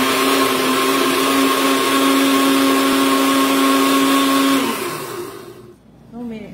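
A blender whirs loudly at steady high speed, mixing an Oreo cookie and ice cream milkshake, then winds down and stops; a voice speaks briefly after it falls silent.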